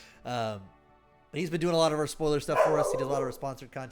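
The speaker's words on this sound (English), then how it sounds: "Apologies for the dog barking." A pet dog barks and yips briefly near the start, then someone speaks continuously while faint excited dog noises continue underneath.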